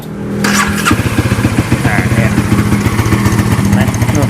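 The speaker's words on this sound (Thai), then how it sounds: "ที่มันดังเนี่ยอันนี้เครื่องมันดังนะ" A Honda CBR500 motorcycle with its stock exhaust fires up and settles into a loud, rapid thumping idle with small revs, close by, with a voice talking faintly over it.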